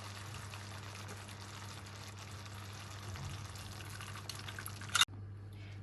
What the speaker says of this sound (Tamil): இதோட நான் கரைச்சி வச்சிருக்கிற தேங்காய் பால் பவுடரையும் சேர்க்க போகிறேன்.